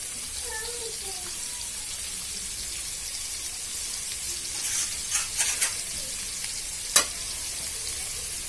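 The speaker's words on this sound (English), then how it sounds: "If you need the onions to fry a little faster" Chopped onions fry in a pan for mutton cutlets, giving a steady, close hiss and sizzle throughout, with a few louder scraping stirs near the end.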